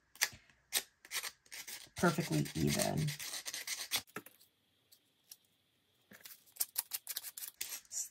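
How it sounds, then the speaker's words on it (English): Sandpaper rubs around the edges of a sticker on a small UV resin badge in quick, scratchy strokes close to the microphone, broken by pauses, while someone speaks softly. "I like to sandpaper around the edges of it"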